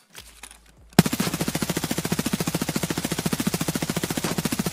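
Automatic gunfire in the shooter game BSG during a crouched recoil test: after a second of quiet, a long unbroken burst of rapid, evenly spaced shots fires loud and close until the end.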